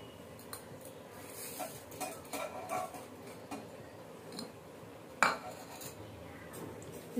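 Spoon stirring a bowlful of sugar into carrot halwa in a pan, with scattered quiet metallic clinks and scrapes and one sharper knock near the end, no talk.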